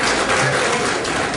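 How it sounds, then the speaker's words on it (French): Audience applause fills a New York year-end ball held by an Ivorian community union, a steady, dense wash of clapping at close range that holds evenly throughout the brief moment. "Applaudissez-vous, 23 millions."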